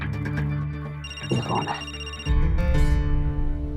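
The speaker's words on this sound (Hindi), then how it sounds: "किसका फोन है?" A telephone rings with a bright repeating electronic tone, loud and close, while a voice speaks over it.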